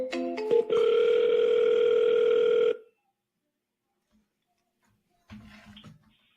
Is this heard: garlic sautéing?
no